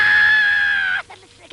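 Another woman's scream from a staged performance of Beckett's Not I: a single loud, steady high-pitched cry lasting about a second, breaking off sharply into quiet breathy murmurs.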